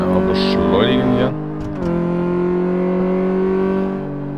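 A car accelerating in the car workshop game KFZ Werkstatt, the engine tone rising and holding a steady droning pitch, close and loud, with a brief shift partway through; a person talks over part of it.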